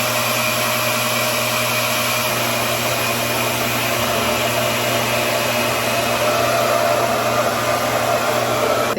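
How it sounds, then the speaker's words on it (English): A RevAir hair dryer runs on damp hair, blowing with a loud, steady, even whoosh from start to finish with no break and no voices. "when you use Rev Air, honestly, it is really good to use it on your hair"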